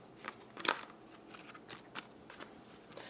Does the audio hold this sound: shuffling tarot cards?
yes